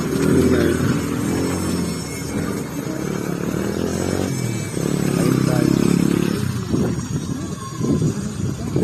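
Motorcycles pass along a street in the Philippines, engines droning and surging in waves over wind noise, with a louder pass midway and a steady hum throughout.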